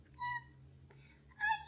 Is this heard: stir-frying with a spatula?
no